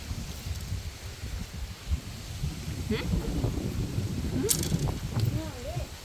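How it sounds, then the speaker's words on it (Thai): Cold wind gusts across an open rural mushroom-farming plot, a steady rushing blow with rustling throughout, while a person talks over it. "ลมหนาวมาอีกแล้วพี่น้องเอ้ย"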